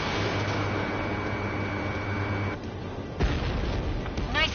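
A low boom bursts out of steady engine drone during a jet dogfight in Ace Combat 7, a single heavy thud with a rumbling tail as an enemy aircraft is shot down.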